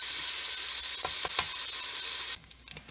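Bacon sizzling and frying in a pan, a bright, steady crackling hiss with a few stirring knocks, then cutting off abruptly near the end, leaving quiet clatter.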